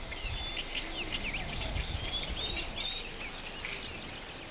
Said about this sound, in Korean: 새들의 청량한 노랫소리가 습지를 가득 채웁니다.